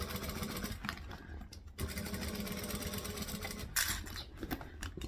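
A sewing machine runs steadily stitching a tote bag in a sewing tutorial, a close, even mechanical whirr with a brief pause and restart partway through, with a voice talking over it.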